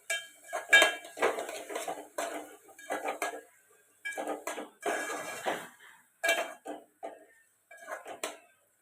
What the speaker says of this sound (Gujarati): હવે આપણે એને મિક્સ કરી દઈશું.